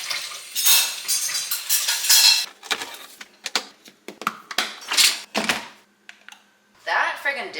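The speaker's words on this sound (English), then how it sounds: "we are now just getting to cleaning and loading up this dishwasher" Dishes and cutlery clatter and clink as they are loaded into a dishwasher, with a run of irregular sharp knocks and scrapes, close and fairly loud, with short pauses between them.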